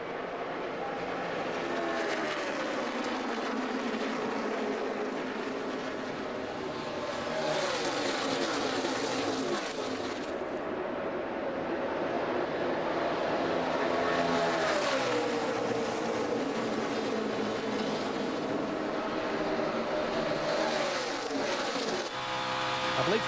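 Stock cars at the 2012 O'Reilly Auto Parts 300 roar around the track in a loud, continuous engine drone with rising and falling passes, a commentator talking over the noise.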